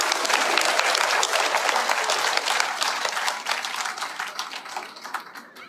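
Crowd applause at a political rally in Paris, dense clapping that starts strong and gradually thins and fades toward the end.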